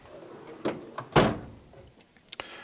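A cluttered plier drawer in a tool chest slides and thuds shut a few times in a garage, with a loud central clunk and a couple of lighter knocks at the end.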